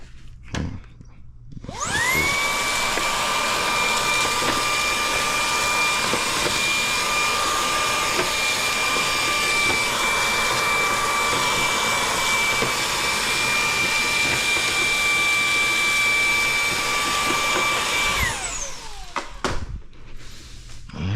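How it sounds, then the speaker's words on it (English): A vacuum cleaner whirs up, runs with a steady high-pitched whine for about sixteen seconds, then winds down, with a few clunks at the end. "we'll just use this vacuum right here"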